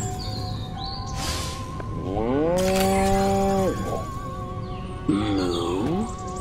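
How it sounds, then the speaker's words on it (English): Cow mooing in the Destroy All Humans game on Xbox One, two drawn-out moos in succession, the first long and loud, the second shorter, over a steady background music bed. "Again with the moo."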